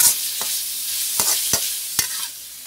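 Minced pork sizzles in a hot wok or pan for Thai holy basil stir-fry with shrimp, a steady frying hiss punctuated by sharp scrapes and taps of a spatula stirring several times.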